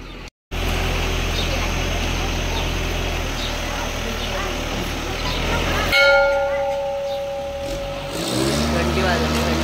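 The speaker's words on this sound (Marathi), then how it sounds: "घंटी वाजवली, घंटी." A temple bell is rung at the Yellamma temple near the Karnataka border, its tone ringing out and sustaining amid crowd noise and nearby activity, with a steady low rumble underneath.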